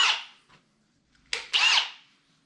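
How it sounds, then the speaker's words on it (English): Short bursts of a drill boring pin holes into wooden table-top breadboard ends, a whirring grind that starts and stops twice with a quiet pause between, close by. "I then drill holes for the pins, which will be centered on each of the 3 tenons"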